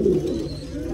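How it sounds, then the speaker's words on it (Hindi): Black fantail pigeon gives a low throaty coo, close and clear, a single short rolling call. "ये जो ब्लैक फेंटेल है मतलब दूसरे कबूतर के ऊपर गुटर भी रहा"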